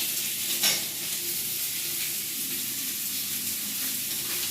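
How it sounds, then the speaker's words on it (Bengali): Hog plums stir-fried in a pan with salt and turmeric give a steady, close sizzle with light stirring scrapes throughout. "আমড়াগুলো দিয়ে ভালো করে কষে নিই আর এখানে একটু নুন আর হলুদ দিয়ে দিই"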